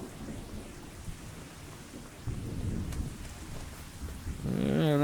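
Thunderstorm with steady rain in the farming game Farming Simulator 25, a continuous rainy wash with low rumbling thunder swelling midway and again at the end, no talking over it.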